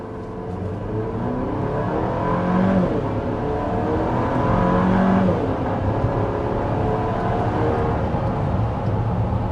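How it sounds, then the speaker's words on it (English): A 2025 Ford Explorer pulls away from a complete stop going slightly downhill, heard from inside as a smooth, rising engine note that climbs through gear changes over steady road and cabin hum. "that was an acceleration from a complete stop, going a bit downhill"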